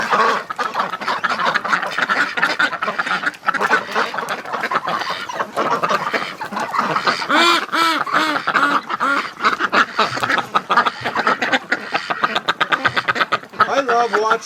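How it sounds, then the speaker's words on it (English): Several ducks quack in a loud, busy chorus as they bathe in a freshly cleaned tub of water, with rooster-like calls mixed in and a person talking over them throughout. "oh, look at the ducks in the tub."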